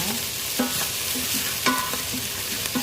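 Beef stirred in a cooking pot for nilagang baka, with a steady broadband sizzle and repeated scraping knocks from the spoon at an even rhythm, close and fairly loud, no talk.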